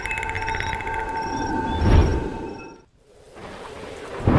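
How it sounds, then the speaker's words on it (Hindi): Heavy rain pours steadily during a summer storm while a rumble of thunder swells, briefly drops to near quiet, then the rain returns; dense, close and fairly loud, with no voices. "चारों ओर घने बादल छाए हुए हैं। तूफान उठ खड़ा हुआ है।"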